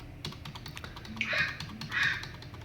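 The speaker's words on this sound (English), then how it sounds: "I'm pressing delete on my keyboard." The delete key on a computer keyboard is tapped repeatedly in a quick, even rhythm of soft clicks, close and quiet, while a faint phone ring sounds in the background.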